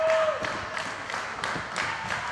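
A wrestling crowd applauds with steady, moderately quiet clapping in rhythmic bursts, under a faint background murmur and a brief tone at the start.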